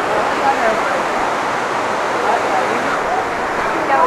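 Floodwater surges past the Tapkeshwar temple in Dehradun near an iron bridge, a steady, loud, broadband roar of rushing water that holds without pause throughout.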